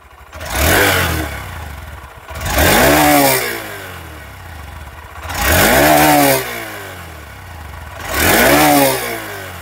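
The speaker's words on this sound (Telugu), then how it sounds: "ఒకసారి మీకు ఇగ్నిషన్ ఆన్ చేసి ఎగ్జాస్ట్ నోట్ అనేది వినిపిస్తాను" A 2025 Honda SP 125 motorcycle engine revs four times after ignition, each blip rising and falling in a clear rhythmic pattern with idle between, close and loud.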